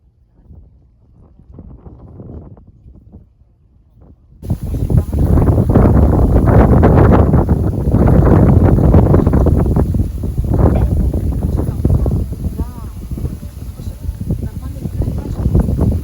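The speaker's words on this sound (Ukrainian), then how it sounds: "Сьогодні у нас дуже вітряно, приїхали на пляж." Strong gusts buffet the microphone with loud, roaring rumbles on a beach in Egypt, following a quieter stretch where a voice speaks.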